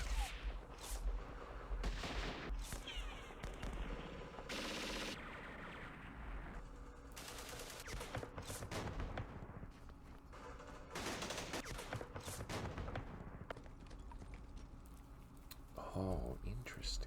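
Gunfire in the Vietnam war game Campaign Series Vietnam, Khe Sanh Village 1968: dense, continuous bursts and volleys of rifle and machine-gun fire with heavier booming blasts, loud and sustained throughout, with occasional voices.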